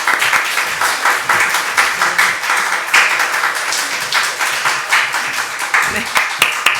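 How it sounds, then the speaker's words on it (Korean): A church congregation at a Wednesday service claps as a missionary comes forward, a brisk, loud crowd clapping with an audible rhythmic pulse, steady from start to finish. "우리 선교사 나오실 때 뜨겁게 박수로"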